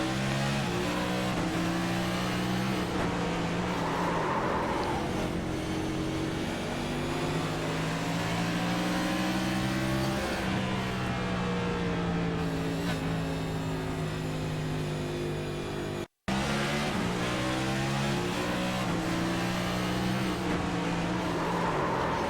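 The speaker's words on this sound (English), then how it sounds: "shifts it all the way up into fifth gear here going into turn one" A race car on the Bristol oval heard from onboard, its engine droning loud and steady as it climbs through the gears, pitch rising and dropping with each upshift toward fifth, with a brief dropout partway through.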